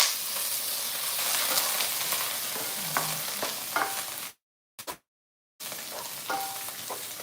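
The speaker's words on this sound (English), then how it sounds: "We stir fry this first. And then we will, can you hear the sizzling sound?" Mushrooms sizzle in a hot wok as they are stir fried, a loud, close, continuous hiss with occasional clinks of stirring, cut by a brief dropout of silence near the end.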